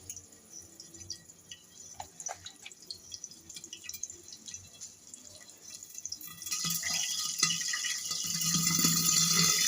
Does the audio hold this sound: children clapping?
no